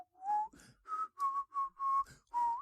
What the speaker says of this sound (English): his newly mastered technique of inward whistling